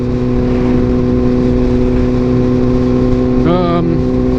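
A motorcycle cruises along a scenic road near Sleeping Bear Dunes, its engine a loud, steady drone of wind and mechanical hum, with a brief rising whine of revving near the end.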